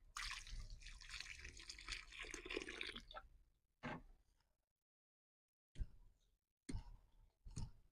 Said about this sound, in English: And also add some more water.